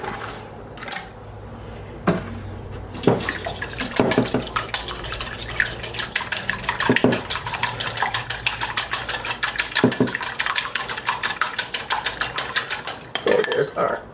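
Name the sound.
whisking eggs in a bowl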